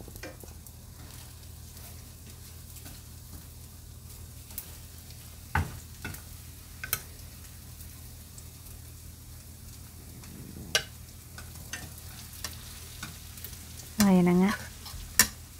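Bread slices fry in a pan with a steady low sizzle throughout, broken by a few sharp clinks and scrapes of a utensil and a brief louder burst near the end; a voice speaks briefly.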